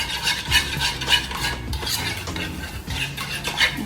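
A spoon stirs a fruit cocktail float mixture in a bowl, scraping and clinking in uneven strokes, close and fairly loud with no talking.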